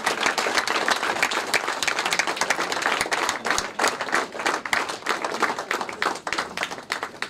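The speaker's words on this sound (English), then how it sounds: "Can we have a round of applause?" Audience applause at a banking talk in Bangalore, dense rapid clapping from a crowd filling the room, steady and then thinning slightly toward the end, with no speech over it.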